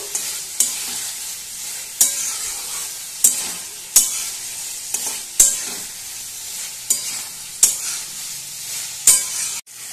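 Fig curry sautés in oil in a pan. A loud, continuous sizzle runs under sharp, regular spoon scrapes and knocks, about one every second, close to the listener, with no one talking.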